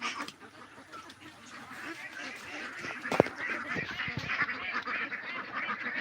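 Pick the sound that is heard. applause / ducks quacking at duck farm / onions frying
ducks quacking at duck farm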